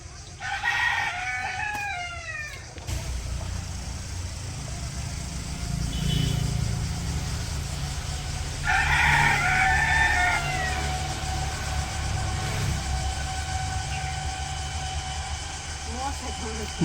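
Chickens cluck and a rooster crows at a village poultry farm, with one crowing burst near the start and another midway, over a steady low background rumble and faint voices.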